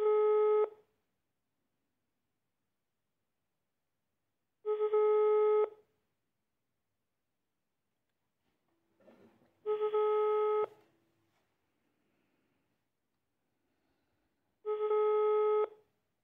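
A telephone ringback tone sounds while a call is transferred to a Dutch legal helpline, four clean, loud, evenly spaced rings separated by silence, with a faint click before the third.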